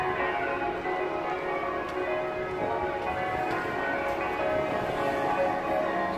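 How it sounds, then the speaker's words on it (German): Church bells ringing out across Rome, a dense continuous wash of overlapping tolls and sustained ringing tones that carries steadily from a distance, with no talking over it. "Die Glocken sind so gut,"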